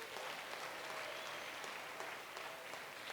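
A church congregation applauds for God in a dense, steady burst of clapping that fills the space without pause.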